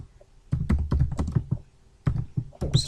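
Computer keyboard typing while Java code is entered, with quick clusters of close, crisp key taps in two bursts separated by a short pause.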